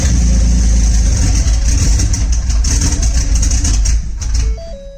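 A 600 AWHP SHO build's engine runs rough and loud close by, a heavy uneven rumble with surging revs, easing slightly near the end, with no talk.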